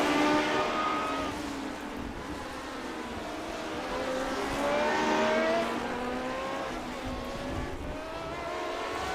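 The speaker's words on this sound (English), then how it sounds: "Cars making their way onto the main straight." Race cars in a racing video game stream onto the main straight of the Indianapolis Motor Speedway road course, engines droning steadily at a loud, sustained pitch throughout with no talk over them.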